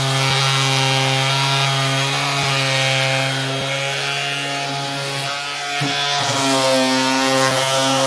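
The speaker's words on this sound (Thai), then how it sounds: "ในวิดีโอนี้ผมจะพามารับชมกับเครื่องขัดกระดาษทรายไร้สายตัวใหม่ของทางแบรนด์โอซุกะนะครับ" An Osuka OCWS877-N cordless sander working on wood, its motor a steady, loud, tonal whine over a raspy abrasive scrub, with brief dips as pressure shifts and no talking.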